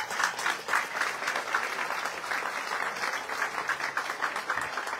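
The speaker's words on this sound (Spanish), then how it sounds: "Un aplauso para él." Audience applause at a district civic event honoring former footballer José Luis Carranza, steady lively clapping from a crowd close by, sustained at an even level throughout.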